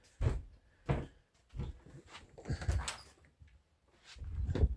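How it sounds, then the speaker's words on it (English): Door being opened, heard as a series of separate knocks and clunks spaced across several seconds, fairly close in a quiet room. "I better open my door"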